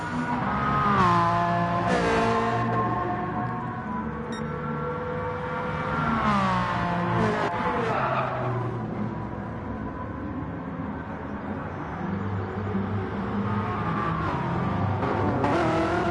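Race cars in Gran Turismo Sport at Autodrome Lago Maggiore roar in a loud, continuous engine drone, with rising and falling revs as the cars shift and chase each other closely, with no talking over it.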